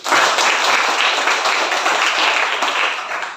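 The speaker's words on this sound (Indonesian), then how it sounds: "Tepuk tangan untuk semua dulu." Schoolchildren in a classroom clap together, a dense, close burst of applause that stays loud and even throughout with no talking over it.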